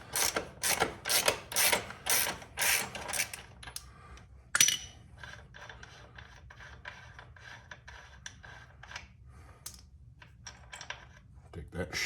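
A ratchet loosens the sprocket bolts on an Africa Twin motorcycle. Quick bursts of close ratcheting clicks come first, then a sharp metallic clack and quieter scattered mechanical rattles and taps.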